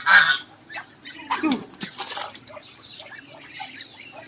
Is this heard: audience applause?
no